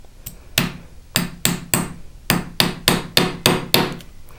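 Hammer blows on rivet heads of a handmade jewelry bracelet with textured discs, about a dozen sharp, close metallic taps in an uneven rhythm, some strikes glancing off the spiral.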